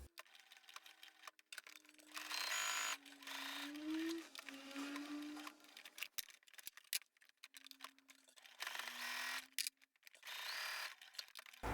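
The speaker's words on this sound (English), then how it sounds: "We're going to sew down the 2 short edges, then we're going to stitch the long edge in place." A sewing machine stitches the short and long fabric edges of a tissue holder in several short bursts. The whirring and whining runs go fast and slow, with gaps and small clicks between them.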